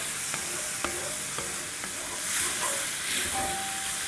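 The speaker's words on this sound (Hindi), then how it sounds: "बस 30-40 सेकंड सौटे करेंगे जिंजर गार्लिक और हरी मिर्चों के साथ भी" Ginger, garlic and green chillies sauté in a pot with a steady soft sizzle and hiss, punctuated by occasional light clicks and scrapes of stirring, heard up close with no talking.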